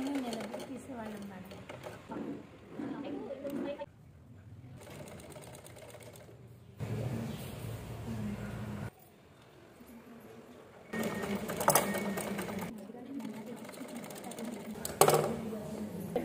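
Sewing machine stitching the front and back neck of a kids' langa jacket in several close bursts of rapid mechanical whirring, separated by pauses, with someone talking between and over the runs.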